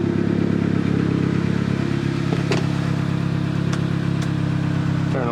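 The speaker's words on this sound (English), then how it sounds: "it sounds like it's running good, guys. All the injectors are firing, not misfiring" A turbocharged Honda Accord engine idles smoothly and evenly, a steady close mechanical hum with all cylinders firing and a few faint clicks over it.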